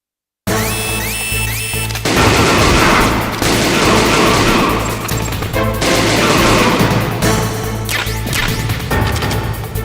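Gunfire in Metal Gear Solid, with loud bursts of shots, crashes and impacts that start suddenly after a brief silence and continue densely with a tonal game sound early on, no talking.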